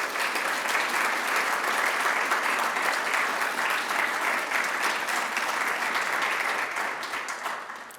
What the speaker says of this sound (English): So one more round of applause for Linda Pelker.